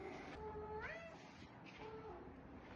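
A pet cat meowing in the morning, several drawn-out, rising and falling meows close by over a steady background hiss, with no one talking.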